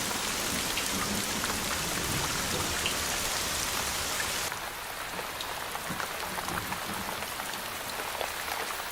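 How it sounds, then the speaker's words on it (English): Heavy monsoon rain pours steadily over forest, a dense, continuous hiss of drops on foliage that stays loud throughout with no voices. "3 feet of rain can fall in just a few months."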